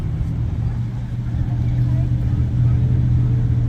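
Cars pull away from a car show, a low steady engine rumble rolling past with slight swells while people talk nearby.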